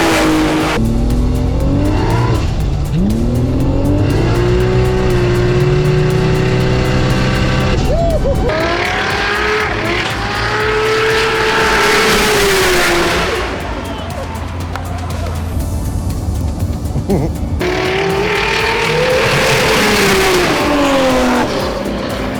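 Nissan GTRs roll racing, engines revving and howling through gear changes, loud and close, with tire squeal and passing cars; people talk briefly over the engine noise.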